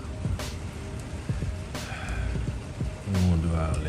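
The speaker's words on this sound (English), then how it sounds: "Been raining for a little minute." Steady rain falls outdoors where a 1996 Impala is being worked on, a constant close hiss with a few scattered thumps and low murmured voices underneath.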